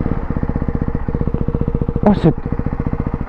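A Ducati 698 Hypermotard still in its break-in period idles close by with a loud, even, rapid thumping beat, and a short voice-like burst rises briefly over it.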